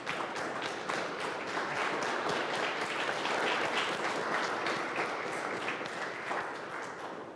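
Audience applause at a public talk about the piping of the San Francisco River in Puebla, a dense, even round of clapping from a sizable crowd filling the whole stretch before slowly tapering.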